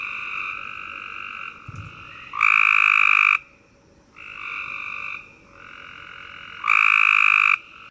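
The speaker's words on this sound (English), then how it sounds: "Their call is a high-pitched buzzing trill with 34 to 69" A chorus of Cope's gray tree frogs: high-pitched, buzzing pulsed trills repeat and overlap, several loud close calls alternating with softer ones against a quiet night background.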